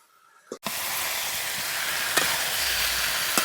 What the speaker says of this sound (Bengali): এবার সবজি গুনাও একটু আউজে নিচ্ছে